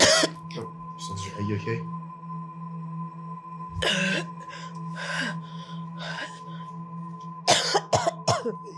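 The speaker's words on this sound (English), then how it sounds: "You're coughing blood." Several harsh coughs and gasps, a person coughing blood, come in bursts over a low steady hum, with a voice speaking briefly between them.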